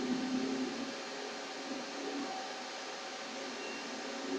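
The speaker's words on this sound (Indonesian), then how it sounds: "Kipas tuh. Berisik gitu." Server cooling fans whir loudly in a computer room, making a steady, even, broadband drone that holds without a break, with no talking.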